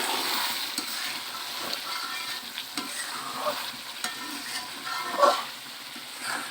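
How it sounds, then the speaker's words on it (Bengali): Chicken kosha being stir-fried in a pan gives a soft, continuous sizzle broken by scattered scrapes and stirring clicks. No one speaks. "এভাবে মাংসটা কষাতে থাকবো।"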